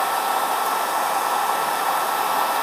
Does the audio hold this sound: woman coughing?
no